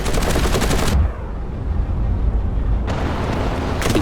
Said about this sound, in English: if we got a whole bunch of machine guns, we should be able just to fire away as soon as we get kind of close to it